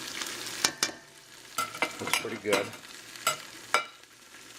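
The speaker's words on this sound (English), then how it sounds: "all my onions and garlic are getting all nice and caramelized now" Onions and garlic caramelizing in a pot for beef stew are stirred and scraped, giving a steady close sizzle broken by several sharp utensil scrapes and clacks against the bottom; someone speaks briefly.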